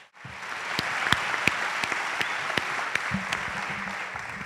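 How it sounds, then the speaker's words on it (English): A live audience applauds steadily at a solidarity event, a dense, even patter of many hands with a few sharper claps standing out, sustained and close throughout. "Before we give it one last round of applause"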